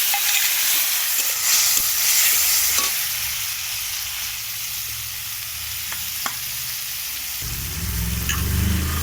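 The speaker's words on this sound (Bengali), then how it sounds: "তো মশলা ধোয়া জলটা দিয়ে দেওয়া হলো।" Spice-washed water hits a hot frying pan holding dried-fish curry, a steady hissing sizzle with occasional stirring clinks, then a deeper, louder bubbling surge near the end; no one speaks.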